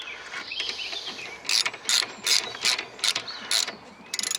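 Socket ratchet tightening nuts on a Hayter 48/56 lawnmower: a run of about eight short, bright clicking bursts in steady rhythm, close by, after a quiet start with no talk.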